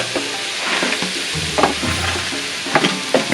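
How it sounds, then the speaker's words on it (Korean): Noodles, with vegetables, salt and pepper, are stir-fried in a hot pan. A continuous close sizzle carries sharp scraping and tossing strokes from stirring, and no one speaks. "그럼 여기서부터 면을 투하할게요."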